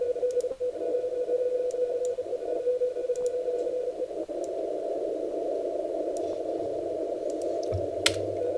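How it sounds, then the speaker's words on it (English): An amateur radio operator sends a Morse code CQ call on the 15-meter band near 21.002 MHz, heard as a steady keyed tone over faint hiss, with scattered clicks. "So right now I'm calling CQ."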